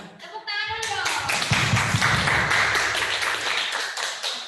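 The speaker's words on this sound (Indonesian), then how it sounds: "Tepuk tangan dong." Applause during a school Zoom meeting, a cluster of quick hand claps picking up after a brief voice and continuing as a steady, slightly uneven patter mixed with faint children's chatter.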